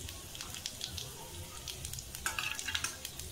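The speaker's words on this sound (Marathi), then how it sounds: "आता फोडणी देते. त्यामध्ये मी खडे मसाले टाकलेले आहेत" Whole spices and cumin hit hot oil for a tempering, giving a steady close sizzle and crackle with a few sharper pops, heard alone.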